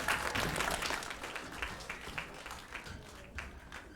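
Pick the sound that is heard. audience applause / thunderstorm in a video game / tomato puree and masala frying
audience applause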